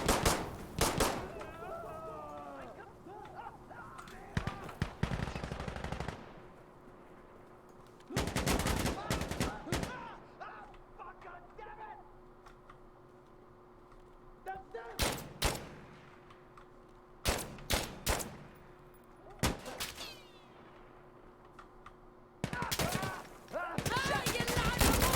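Gunfire in the video game Insurgency Sandstorm comes as several loud bursts of automatic fire and volleys spread across the scene, close, with pauses and quieter stretches between them.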